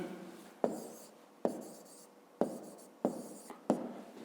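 Writing out a fifth-grade math solution on paper, with five distinct pen strokes starting sharply and trailing off, close and clear against a quiet room.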